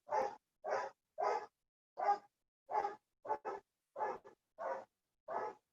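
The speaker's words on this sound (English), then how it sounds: "Sorry about my dog, if you can hear him in the background." A dog barks in repeated single and doubled woofs, about ten in a row at a steady uneven rhythm, moderately loud but slightly distant in the background of a watercolor painting session, with no talk over it.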